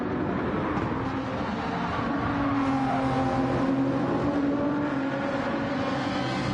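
Several race cars at Monza in a racing video game, a steady, loud engine roar with overlapping whining pitches, cars running flat out down a straight without pause.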